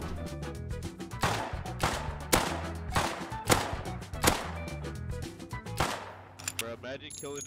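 Shotgun traps in the Rust survival game go off in a rapid cluster of sharp, loud blasts, several bursts crowding together over a steady musical background before the firing stops.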